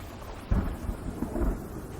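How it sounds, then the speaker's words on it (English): Heavy rain with thunder over the coast of Trà Vinh, Vietnam: low rolling rumbles rise in two or three swells over a dense, steady hiss of falling rain, with no one speaking. "The rain is coming, and it's not just a small one."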